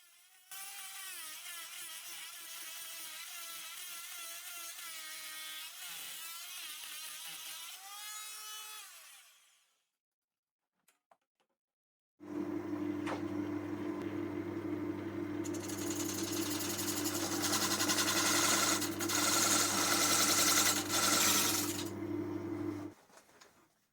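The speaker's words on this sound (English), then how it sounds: "this thin bladed saw was the answer" A thin-bladed saw cuts into the top of a VW-tyre-shaped wooden bowl turning on a lathe, a loud steady whine with strong low hum in two long passes separated by a brief silent pause.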